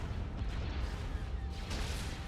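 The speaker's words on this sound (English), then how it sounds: "Ion cannon firing." Ion cannon volleys in a Star Wars Empire at War space battle, rumbling heavy booms layered over dense low battle noise with a faint voice mixed in.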